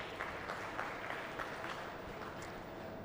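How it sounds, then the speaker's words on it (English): Faint, scattered applause from spectators at a youth dairy cattle show, honoring red and white exhibitors in the show ring; soft, somewhat distant clapping that holds steady for a few seconds. "Give these red and white exhibitors a big round of applause."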